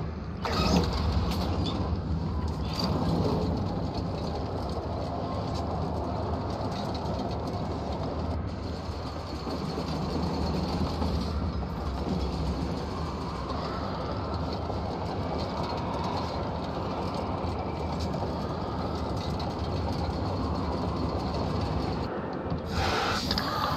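An elevator moves in the House of Ashes video game, giving a steady, loud mechanical rumble with rattling, clattering motion that runs for over twenty seconds with no voices.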